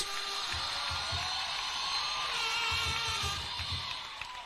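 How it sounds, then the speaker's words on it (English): A large graduation crowd at Baraton University cheers and applauds for School of Business graduates, a distant, continuous roar of voices and clapping with soft thumps beneath it. "Give them a round of applause."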